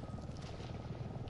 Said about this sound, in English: Is it a helicopter?